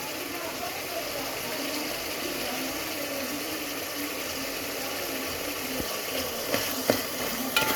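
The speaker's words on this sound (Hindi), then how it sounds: "उसके बाद इसकी भुनाई करेंगे जी, अच्छी से भुनाई।" Tomato masala for aloo keema fries and is stirred in a pot, giving a continuous low sizzle with scraping and clinks from the spoon near the end.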